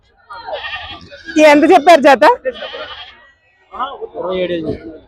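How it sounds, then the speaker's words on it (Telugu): Goats bleat loudly and close at a livestock market in Nandigama, several quavering calls in a burst, with people talking nearby. "ఎన్ని మేకలు ఉన్నాయి ఇక్కడ"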